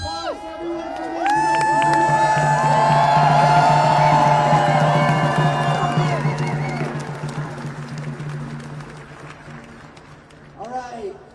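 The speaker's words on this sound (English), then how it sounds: "Let's give another round of applause to everyone for being" Protest crowd in Philadelphia cheering and applauding, with whoops and shouts swelling for several seconds before fading, while a voice carries on over it near the end.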